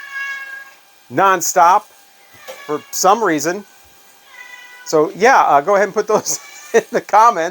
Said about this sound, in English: that's a cat meowing non-stop for some reason